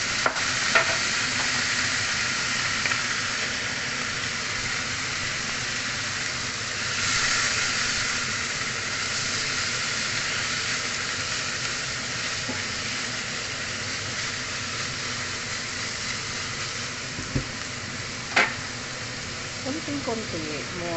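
Green beans with sesame seeds sizzling in a pan after a little water is added: a steady, loud frying hiss and steam sizzle throughout, with occasional utensil clinks and a person talking over it.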